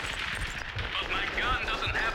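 Gunfire in the video game Max Payne 2, a quick burst of several close shots in rapid succession over a couple of seconds, loud and sharp.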